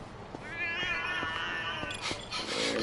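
A cat meows repeatedly in the video game Lost Judgment: The Kaito Files, a series of drawn-out, wavering cries close up over steady background ambience, with a person's voice faintly underneath.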